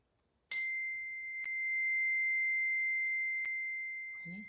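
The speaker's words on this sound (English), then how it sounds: "Focus on the sound. Nothing else but the chime." A single chime struck once during a calm wellness practice, a sharp metallic hit followed by one pure, sustained ringing tone that hangs steadily for several seconds in near silence.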